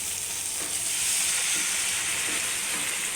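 A splash of water hits a pan of frying turmeric and chili masala for fish curry, producing a loud, continuous sizzling hiss that stays steady throughout.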